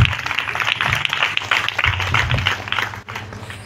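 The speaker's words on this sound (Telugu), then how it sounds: "చప్పట్లు కొడుతూ సేవకులను మనం ఆహ్వానించుకుందాం." A church congregation claps steadily to welcome the preacher, a close, dense patter of many hands that continues for several seconds before thinning, with faint voices underneath.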